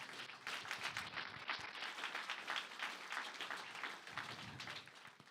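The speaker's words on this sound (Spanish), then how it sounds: "Denle el mejor aplauso al Señor" Congregation in a church service applauding, a faint but steady wash of many hands clapping that continues evenly throughout, heard from a distance.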